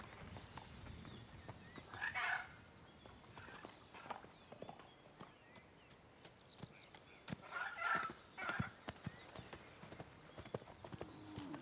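Horse hooves clip-clop steadily at a walking pace in the video game Pantanal: Quest for the Jaguar King, with brief swells of other sound twice along the way, moderately close.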